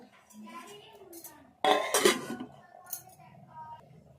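A lid is set onto a cooking pot of potato pulusu with a sudden metallic clatter and brief ringing, following some quiet talk.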